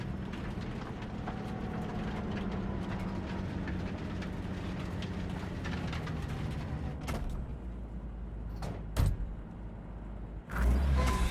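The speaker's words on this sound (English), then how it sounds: "If you like it so much, maybe we should just hijack the train." A train rolling in Cyberpunk 2077, a steady low rumble and rattle of rail cars with a few sharp clanks and bursts toward the end, with no voices.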